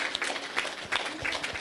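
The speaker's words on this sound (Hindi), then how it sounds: "जोरदार तालियों के साथ विज्ञानाचार्य जी का स्वागत।" A crowd at the Harihar meditation festival's pyramid inauguration claps briefly to welcome a guest, a short, faint patter of scattered claps.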